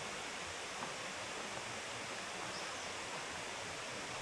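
Waterfalls in a Chiapas canyon in Mexico rush in a steady, dense broadband roar that holds even and unbroken throughout, with no speech over it.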